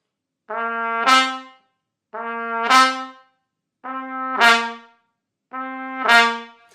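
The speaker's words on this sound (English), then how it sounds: "Next, I actually slur them, still with that kick of air." A trumpet plays four separate slurred two-note figures, each a sustained tone rising to a brighter, louder second note, with short pauses between them.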